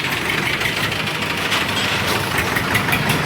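A Preet 749 tractor, a 2011 model in clean condition at a Muzaffarnagar tractor market, idles with a steady, loud diesel rumble and a faint rhythmic knock. The sound holds constant and close, with no talking.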